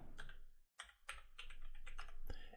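A quiet, close computer keyboard types out a folder name in a quick run of clicking keystrokes, broken by one short pause near the start.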